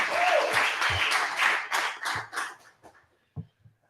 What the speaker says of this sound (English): let's give a little round of applause for Corey in the game